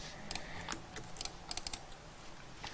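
Keys on a computer keyboard are tapped while working in Photoshop, giving a quick, irregular run of crisp clicks in small clusters, close and quiet, with no one speaking.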